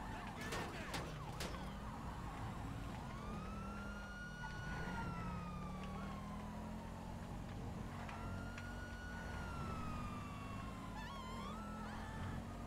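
Police sirens in Grand Theft Auto V Online wail in long rising and falling sweeps over a steady engine rumble, with a few sharp clanks early on; no one speaks.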